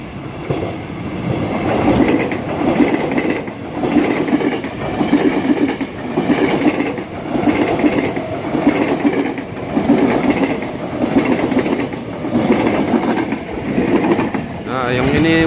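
A KRL commuter electric train rolls into Cibitung station from Jakarta, loud and close, with a steady rhythmic clickety-clack of wheels over rail joints and rumbling carriages passing by, while people talk over it.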